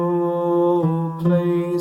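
A crosspicked guitar plays the melody of Home Sweet Home, clear sustained picked notes ringing close and alone, with a couple of note changes marked by brief pick attacks.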